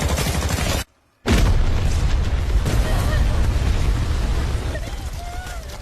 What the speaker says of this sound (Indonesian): mengambil sebuah granat untuk ia lempar ke dalam terowongan dan